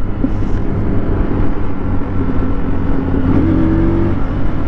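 Big motorcycle engine revving while being ridden: a loud, continuous close-up drone with rising pitch as the throttle opens, thick with wind rumble, and no talking.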